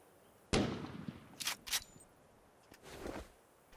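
Rifle shots in the video game ARK with a realistic ballistics mod, a few sharp cracks spaced apart, the first loudest, followed by softer reload-like clicks and a later shot.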